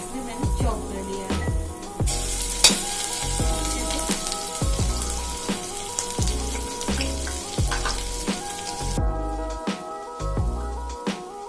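Garlic cloves, chopped ginger and green chili frying in two spoons of oil in a kadai over medium-high flame, a continuous crackling sizzle with steady spattering pops.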